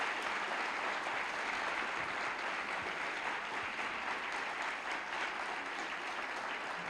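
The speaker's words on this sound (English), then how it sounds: "ladies and gentlemen, please, a round of applause for Claudio Sanchez." Steady audience applause fills a panel event honoring an NPR correspondent, a dense, even clapping that holds throughout without any talking.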